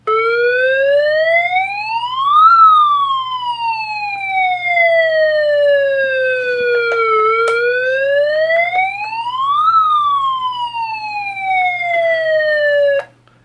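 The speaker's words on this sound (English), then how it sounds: "this one also came with 2 sirens" A toy police car's electronic siren, from a vintage 1993 Hess police car, wails slowly up and down, two long rising and falling sweeps, loud and close, ending abruptly.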